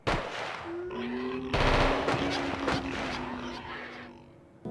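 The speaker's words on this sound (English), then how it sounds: "The girl is terrified and there are frequent gunshots." Gunfire rattles in rapid bursts on an island in the PS1 game Juggernaut, dense and loud over a tonal game backdrop.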